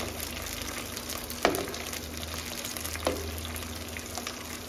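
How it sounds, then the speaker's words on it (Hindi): Long-sliced onion sautéing in a pan after mustard seeds and curry leaves, a steady soft sizzle throughout, broken by two sharp clinks of a utensil against the pan. "प्याज को भी हल्का सा सोते कर लेंगे।"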